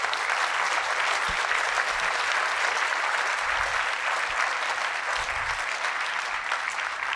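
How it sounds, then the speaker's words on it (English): A conference audience applauds a panel continuously, a dense even wash of clapping that holds steady throughout with no voices on top. "Let's give a big round of applause to our panel."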